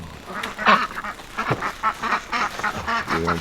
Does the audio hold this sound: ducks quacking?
yes